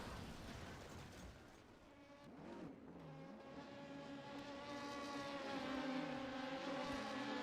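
An LMP prototype race car in the sim-racing game engine roars through the Daytona chicane, its pitch sliding down on braking and climbing again on exit, with a steady engine drone under it.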